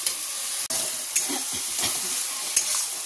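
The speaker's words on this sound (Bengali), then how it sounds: "বাটা মশলা বলতে আদা, রসুন, কাঁচা লঙ্কা আর টমেটো দিয়ে ভালো করে মশলাটাকে আগে কষিয়ে নেবো" Ginger, garlic, green chili and tomato spice paste frying in a pan for keema, giving a steady close sizzle with a few scraping stirs and brief clinks, no voices.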